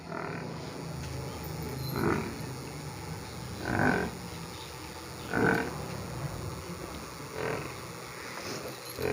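A buffalo at a livestock sale moos four times, long low calls spaced about two seconds apart and moderately near, over steady background noise.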